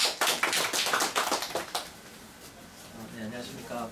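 Audience applause at a medical ultrasound academy workshop in Daegu, a burst of many hands clapping for about two seconds that quickly thins out, followed by a quiet room with faint voices.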